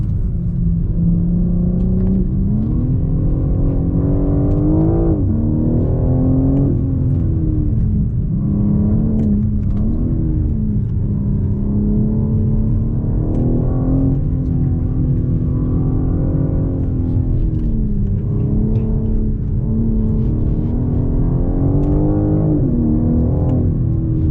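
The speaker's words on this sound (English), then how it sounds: "Let you listen to that inline six." Steady inline-six engine drone from inside a moving 2021 BMW M4 Competition, rising and falling in pitch as it revs through gears, loud and continuous with no talking.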